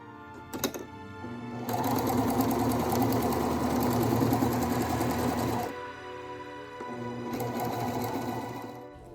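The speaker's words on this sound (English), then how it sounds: "I machine stitched on the first side" A sewing machine stitching bias tape onto a wizard robe, with a few clicks and then a long, steady mechanical whirr of fast stitching that stops briefly and resumes more quietly, close by.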